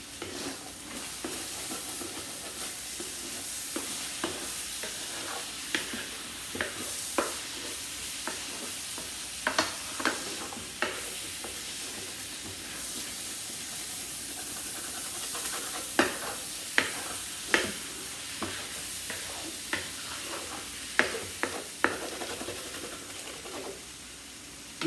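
Onion and vegetables stir-fry on high heat for chicken fried rice, giving a continuous hissing sizzle with repeated spatula scrapes and taps throughout, moderately close.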